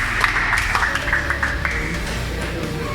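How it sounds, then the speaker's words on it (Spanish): Applause for a two-person team that beat the clock at a school pneumatics olympiad, steady dense clapping filling the whole stretch with a few sharper claps standing out, loud and close in a room. "un aplauso para los dos del equipo"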